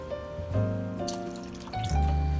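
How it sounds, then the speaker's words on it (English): Tap water runs into an empty tomato sauce can in a kitchen, a steady gurgling stream whose pitch rises as the can fills, with a few louder surges. "I'm going to take my tomato sauce can and we'll fill it with water"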